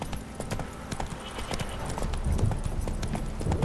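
Roach the horse galloping in The Witcher 3, a fast, steady rhythm of hoofbeats close up over a low rumble of movement, with faint voices in the background.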